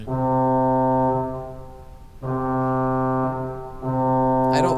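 Reed stop of a 1935 Aeolian-Skinner pipe organ at Trinity Church on the Green, New Haven: three sustained, buzzy held chords, the first two cut off and the last starting with a brief bright flourish, loud and alone.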